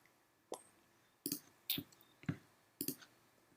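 A computer mouse clicks in a quiet room: a sharp single click, then a string of crisp, close clicks spaced irregularly, some in quick pairs, with near silence between.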